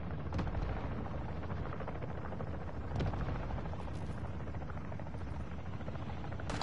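A cargo helicopter in a PS4 video game arrives with a steady, dense rotor roar that fills the scene, broken by a few sharp bursts like distant gunfire.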